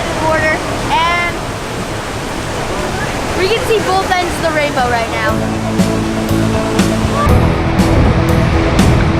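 Horseshoe Falls at Niagara Falls, seen from the Canadian side, roars as a loud, constant wall of rushing water close by, with people talking over it throughout.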